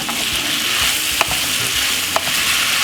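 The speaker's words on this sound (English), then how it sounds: "Then we're gonna add the Courgette spaghetti to it and stir fry everything together" Courgette spaghetti and mixed vegetables stir-fry in a hot pan. A loud, continuous sizzle fills the sound, broken by a couple of sharp utensil knocks.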